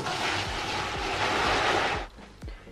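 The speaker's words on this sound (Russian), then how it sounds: "Заливаем воду" Steady broadband rush of water pouring into a container for soaking laundry, about two seconds, then stopping, with a few faint low thumps around it.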